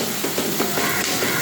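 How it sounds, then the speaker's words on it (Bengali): Onions for chicken biryani fry in hot oil while being stirred, a close, steady sizzle broken by regular scraping strokes about every fifth of a second. "তো আমি এখন ভালো করে এই পেঁয়াজগুলোকে নেড়ে নেব।"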